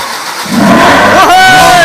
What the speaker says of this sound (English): we're ready to fire up the old Ferrari